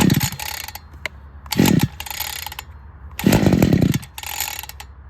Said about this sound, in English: third pull started to turn over